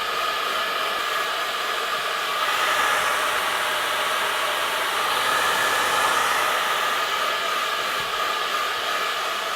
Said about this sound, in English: I'll dry it with a hairdryer